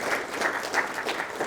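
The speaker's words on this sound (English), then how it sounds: "a round of applause to you all for tremendous work" Applause from a lecture audience after a talk, brief steady clapping at moderate volume with no speech over it.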